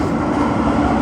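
An R160A M local subway train runs in New York City, a steady loud rolling rumble from inside the moving car, continuous across the short stretch, with no voices.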